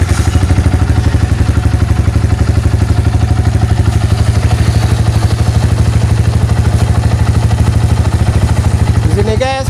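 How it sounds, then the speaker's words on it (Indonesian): A Yamaha Vixion motorcycle engine runs close by at a steady, loud idle, a rapid even mechanical chugging with clattering overtones that continues throughout before a brief whirring change at the very end. "Sekarang kita nyalakan motornya guys."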